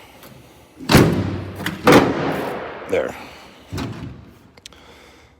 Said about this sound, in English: So yeah, not the best closing door that there is.